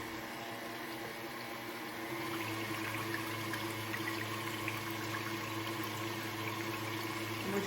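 An electric mixer whisks cream for homemade butter at a medium setting, a steady whirring hum that gets a bit louder partway through and keeps going without talk.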